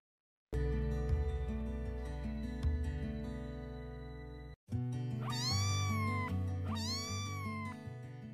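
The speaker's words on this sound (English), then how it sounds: "C for cat." A cat meows twice in clear, rising and falling cries, close and loud over a steady musical backing in a children's phonics song.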